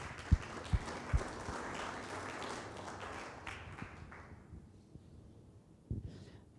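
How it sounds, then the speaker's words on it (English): Scattered, fairly faint applause rises from a small audience at a community safety meeting, with a few sharp claps at first, then fading into quiet with a few stray bumps. "give them a nice round of applause as well"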